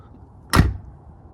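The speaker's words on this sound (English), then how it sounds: "when you open the doors, it makes this nice click noise" A single sharp click-thunk of a 1995 Ford Crown Victoria's door latch releasing, short and close, followed by a brief low rumble in an otherwise quiet space.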